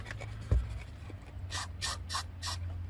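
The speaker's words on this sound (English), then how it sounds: "I always keep some of this bee spray handy" Bee spray blasts at wasps in a truck's front wheel well, several loud hissing bursts about a second long in a row after a brief bump, with a low engine-like hum underneath.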